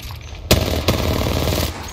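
Rapid automatic gunfire from the video game Apex Legends, a sharp close burst opening a sustained rattling volley that continues loudly to the end, with a second crack partway through.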